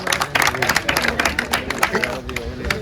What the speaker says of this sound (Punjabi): ਮਾਰ ਦੋ ਤਾੜੀਆਂ ਜੀ